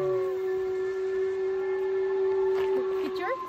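A steam train at Glenfinnan Viaduct sounds a long, steady whistle that carries over the scene with a hiss of steam. A few short pitch wavers come near the end, and voices are faintly present.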